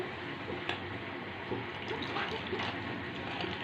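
Water trickles and splashes in small pours into a blended drink mixture in a home kitchen, a soft, uneven liquid gurgle with faint clinks, quiet and close, with no talking.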